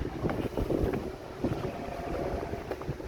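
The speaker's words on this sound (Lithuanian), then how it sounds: "vėjas truputį gausiuoja, bet nieko" Gusty wind buffets the microphone outdoors near a river during a motorcycle trip in Lithuania, a close, rumbling roar that swells and dips in uneven bursts.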